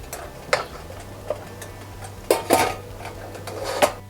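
Metal pizza pan set into a pressure cooker for homemade veg pizza, then the lid closed: a few sharp metallic clanks and knocks at irregular intervals, close and moderately loud, over a steady low hum.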